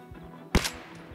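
A single gunshot fired in the zombie survival game Project Zomboid, one sharp loud crack standing alone over a quiet background hum.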